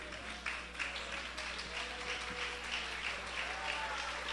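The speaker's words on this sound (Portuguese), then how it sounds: "Isso, aplauda Jesus." A church congregation claps for Jesus during a sermon, with moderate, uneven applause and a voice murmuring faintly beneath it.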